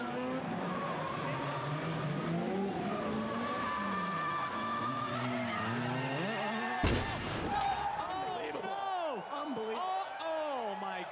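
Green Nissan S15 drift car with a GT2835 Pro turbo making 400 hp, engine screaming and sweeping in pitch while tires squeal, with a sharp impact partway through and commentary talking over it.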